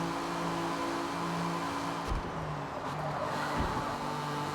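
A Porsche race car in a Le Mans racing video game, its engine droning steadily at moderate distance, with brief thumps of other cars passing through the middle of the stretch.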